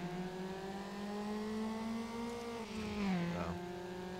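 In Need for Speed: Underground, a street racing game, a car engine drones at steady high revs during a drag run, then bogs and dips in pitch before climbing again, loud and continuous with no talk over it.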